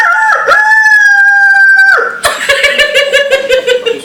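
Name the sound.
voice imitating a rooster crowing at 4 am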